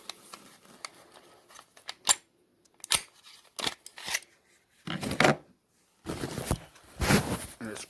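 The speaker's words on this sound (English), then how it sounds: "Here's going to be the tricky part, trying to swap the slides" Handgun slides being swapped by hand, with a quick string of sharp metallic clicks, snaps and scraping slides, some isolated and some in short clattering bursts, close up with brief silent gaps between them.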